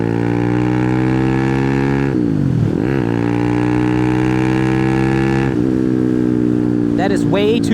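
A 212-swapped Honda Grom clone motorcycle engine drones loudly at high revs, then drops briefly as it downshifts and picks back up, twice, and a voice comes in over the engine at the end.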